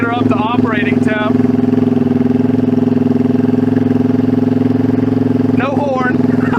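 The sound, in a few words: 1971 Honda CB350 motorcycle engine idling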